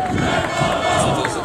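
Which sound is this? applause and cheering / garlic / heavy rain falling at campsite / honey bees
applause and cheering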